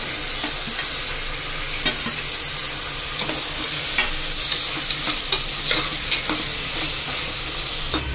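Tomatoes sizzle steadily in a pan while being stirred for a vegetable palya, with repeated scraping strokes of the spoon over a constant close frying hiss; no one speaks.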